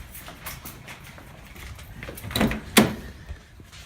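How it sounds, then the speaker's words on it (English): The door of a BMW E36 drift car opens with a clunk of the latch and a creaking, rattling swing, close by against quiet background noise. "Let me get the other door open."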